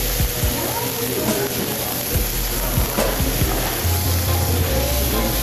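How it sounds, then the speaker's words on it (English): Tomatoes and scallions sauteing in a pan, giving a steady sizzle and hiss with scattered clinks and scrapes of stirring, close by, with a voice talking in the background. "Keep sauteing it."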